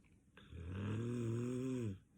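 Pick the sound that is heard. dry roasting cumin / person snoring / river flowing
person snoring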